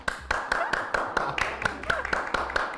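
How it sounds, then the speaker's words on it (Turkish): Hands clapping in a steady rhythm of sharp, close claps, around a dozen strikes, with faint talk underneath. "Alkışlasam."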